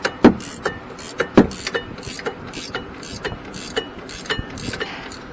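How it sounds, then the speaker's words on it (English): A hand ratchet clicks in quick, uneven bursts as it tightens a bolt on a rear brake caliper bracket of a first-generation Chevy Traverse. The sharp metallic ticks are close and clear, with no talking. "This ratchet is kicking up on me."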